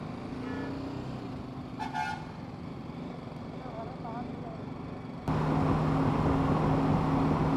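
Busy highway traffic on a crowded road heading toward the Mangalore highway, with container trucks and buses, heard from a motorbike. Steady engine and road roar runs throughout, with several short horn toots. The roar grows louder near the end.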